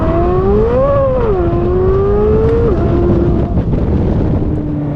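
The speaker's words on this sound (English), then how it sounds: "So that was wide open throttle just to get that initial acceleration" A C8 Z06 Corvette engine roars at wide open throttle, rising in pitch as it pulls hard, then settles into a lower drone, loud and close with heavy wind noise and no voices.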